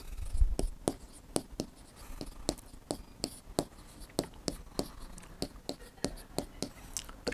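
Pen or chalk writing out the area of a single square tile during a Class 6 maths lesson, heard as a steady run of sharp scratchy strokes and taps close by, with soft scraping between them.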